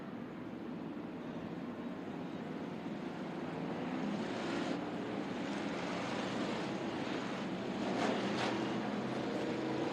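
Factory stock cars race around a dirt track, a steady engine drone heard from a distance that swells slightly as the field passes.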